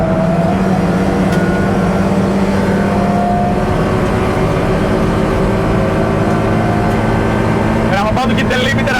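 RingBanana v2 race car at speed on a track, its engine droning loud and steady under heavy braking and carrying speed into a corner, with faint higher sweeps near the end.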